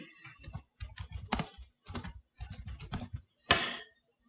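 Credit card details being typed on a computer keyboard: bursts of quick, close key clicks in irregular runs separated by brief pauses, ending with one heavier, louder keystroke, with no talk over it.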